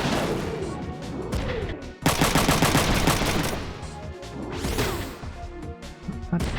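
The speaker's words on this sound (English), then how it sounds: "Let's shoot this guy back." Mecha weapons firing in a mecha combat game, loud rapid gunfire bursts and crashing impacts, with a dense rattling volley in the middle and quieter mechanical clanks around it.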